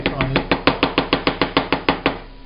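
A knife chops fresh herb leaves very finely on a board while making chicken tikka masala, a fast even run of about a dozen crisp close taps that ends abruptly, with no speech over it.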